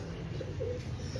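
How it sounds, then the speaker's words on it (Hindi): An eight-year-old ring-eyed pigeon coos softly and steadily, close by, with a low rolling call over faint background hiss. "एक नायाब कबूतर"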